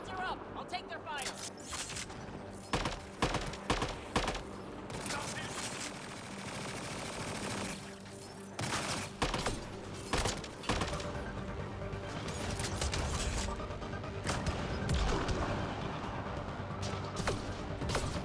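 Rapid automatic gunfire and crashing impacts in a Mass Effect combat fight, with bursts repeating across the whole stretch under a dense, busy game soundscape.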